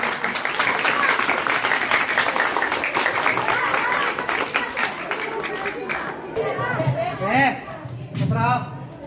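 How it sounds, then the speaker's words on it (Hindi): Children at a school Republic Day event clap loudly together in dense, sustained applause with crowd chatter, fading after several seconds into a nearby voice speaking. "जोरदार तालियों से स्वागत करो बच्चों।"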